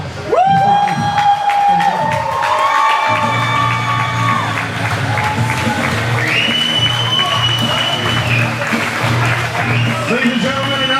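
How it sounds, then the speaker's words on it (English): A crowd at a professional wrestling event applauds and cheers loudly throughout, with whoops and shouts rising over sustained clapping. "Ladies and gentlemen, now a round of applause for Joey and Tommy Dreamer!"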